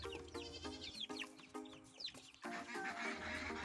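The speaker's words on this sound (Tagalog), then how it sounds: "Ito naman po yung mga sisiw ng aking native chicken." Young native chicks, newly weaned from their mother, peep in a backyard farm pen, with several high chirps scattered over a steady lower clucking of adult fowl nearby.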